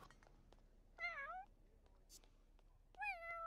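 A cat meows twice in The Sims 4 during a birthday party, clear rising-and-falling calls spaced about two seconds apart over quiet game sounds and a few soft clicks.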